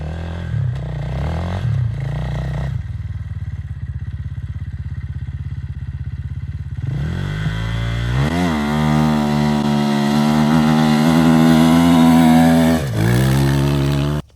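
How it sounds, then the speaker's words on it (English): A 2024-25 KTM 500 motorcycle idles with a rough thump, then revs hard and pulls away in third gear through deep wet sand at the dunes on a slight uphill, its engine note climbing loudly. "This is a 3rd gear start in deep wet sand out at the dunes on a slight uphill."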